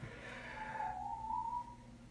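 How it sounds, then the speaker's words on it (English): A single whistled tone, drawn out and gently sliding in pitch for about a second, heard alone over a low steady background hum. "Dramatic whistle to that effect."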